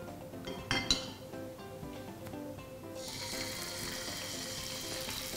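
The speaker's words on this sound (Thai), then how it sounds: "เราจะทอดปลานะครับก็จะต้องนำตัวหนังนะครับด้านหนังลงก่อนนะครับ" Salmon laid skin side down into hot oil in a pan, a couple of clinks and taps, then a sudden steady hiss of frying that stays loud and continuous to the end, close with no voice.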